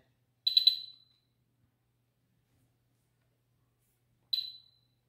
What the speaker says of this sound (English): and then the tag will alarm